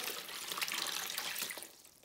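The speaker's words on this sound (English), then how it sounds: "take your 3 litres of water, like so, and just slam it in there" Three litres of water are poured onto coco husk substrate, giving a steady, hissing splash and gurgle that fades slightly toward the end, close and without speech.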